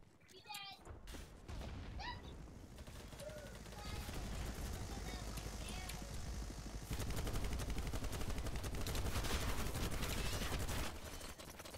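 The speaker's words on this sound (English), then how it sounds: "Hoping to kill that chopper." Helicopter and gunfire in a video game: a continuous dense rotor and engine roar with rapid bursts of gunshots throughout, growing louder partway through, with brief talk mixed in.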